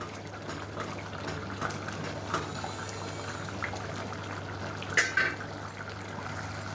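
A mushroom biryani mixture boils in a pot, giving a faint, continuous bubbling simmer with a few soft clinks near the end.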